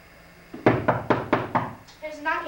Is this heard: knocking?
yes